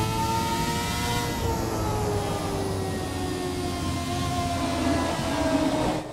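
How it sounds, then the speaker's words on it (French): Hybrid V8 Formula 1 car engines in the F1 2017 racing video game, a loud continuous engine whine with rising and falling harmonic tones as the car accelerates and shifts, steady throughout with no talking. "On va vous laisser écouter un petit peu d'ailleurs ces moteurs V8 hybrides."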